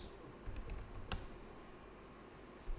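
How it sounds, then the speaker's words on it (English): Light, quiet typing on a computer keyboard, a few scattered key clicks with one sharper tap, over a low steady room hum. "I'm typing in rest shows."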